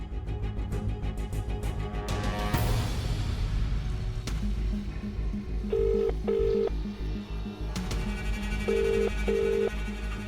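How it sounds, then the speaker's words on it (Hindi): A telephone being dialed in a Hindi TV comedy scene, with a series of short, evenly spaced tone beeps in two clusters heard over steady background music, no voices. "मैडम सर फोन नहीं उठा रही, क्या करूं? करिश्मा मैडम को फोन करता हूं"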